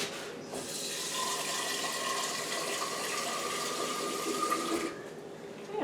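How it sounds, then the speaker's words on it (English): Water pours steadily into an Instant Pot for beef bone broth, a continuous splashing fill of moderate loudness lasting a few seconds before cutting off. "so I can put a little bit more water in there"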